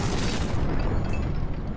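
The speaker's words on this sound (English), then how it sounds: "With each shot, the silence of the village was interrupted by an explosion." A loud, deep explosion rumbles from a Ukrainian tank firing on village houses, a long booming roar that fills the whole moment before slowly thinning out.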